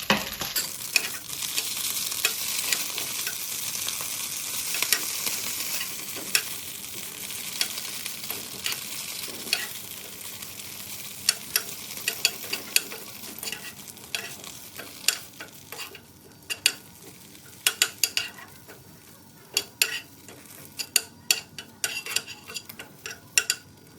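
Hong Kong kale stems stir-fry with a little sesame oil in a pan: a steady close sizzle with a spatula repeatedly scraping and clacking against the pan, the strokes growing sharper and more frequent toward the end.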